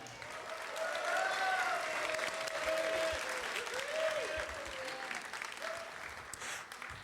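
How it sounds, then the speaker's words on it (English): An audience at an 80th birthday celebration claps steadily and loudly, with voices calling out over the applause before it gradually thins. "You can applaud for Uncle Dave"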